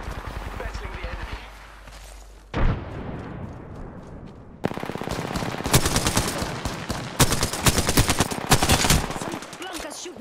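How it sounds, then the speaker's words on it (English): Sustained automatic weapon fire in an Apex Legends firefight crackles in long dense bursts, loud and close, with a voice speaking partway through and a brief lull before the shooting resumes even heavier. "I am taking fire."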